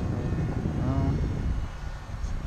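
The twin electric motors of an E-flite Twin Otter 1.2m RC model airplane hum steadily as it makes a flyby, with a faint rising and falling drone over continuous outdoor wind noise.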